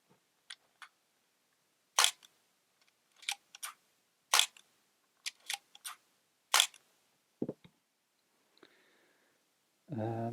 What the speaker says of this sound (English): No overview of an F2 would be complete without a shutter sound.